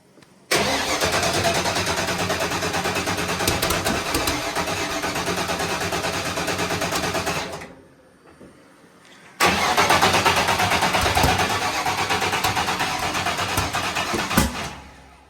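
A car engine fitted with a FuelTech ECU cranks without starting, with a loud, steady starter churn for about seven seconds, a brief pause, then a second long cranking run, close and with no voices.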